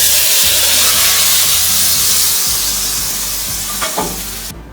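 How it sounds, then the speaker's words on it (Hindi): Kadhi pakora mixture frying in a hot pan, a loud steady sizzle and hiss with stirring scrapes throughout, fading slightly toward the end. "इसको अच्छे से फ्राई कर लेते हैं।"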